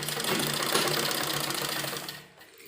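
A sewing machine stitches a baby umbrella frock in one steady, close whirring run that fades out near the end, with no voices.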